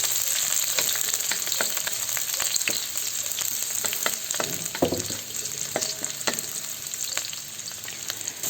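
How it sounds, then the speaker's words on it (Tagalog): Sliced white onion fries in a hot pan, giving a continuous close sizzle dotted with sharp crackles and pops, no talk present. "At kapag mainit na ito, ilagay na natin ang hiniwang sibuyas na puti."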